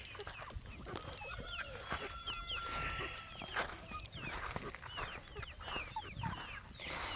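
Several feathery-footed chickens cluck and chatter in a small backyard flock, a busy overlapping series of short calls with occasional scuffing steps, fairly faint and close by.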